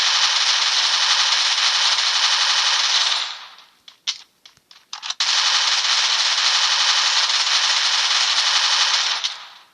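Rapid automatic gunfire in the mobile shooter game Free Fire Max, loud and sustained in two long bursts separated by a few scattered single shots.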